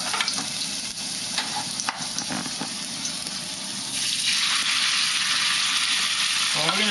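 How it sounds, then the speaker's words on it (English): Beef hits hot oil in a wok over high heat, giving loud stir-fry crackle and utensil clanks that swell into a dense, steady roaring sizzle. "I'm going to stir fry over high heat for a couple minutes"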